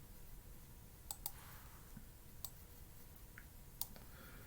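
A computer mouse clicks sharply and sparsely, single and paired clicks a second or so apart, close and quiet over faint room hiss.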